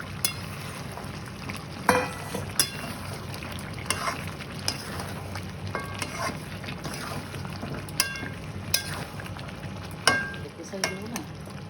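Mutton pieces sautéing and being stirred in a pan for Bengali mutton kosha, a steady low sizzle broken by scattered clinks and scrapes of a spoon against the pan.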